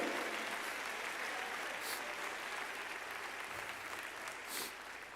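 A church audience gives sustained applause of praise, a soft, even patter of clapping heard from a distance.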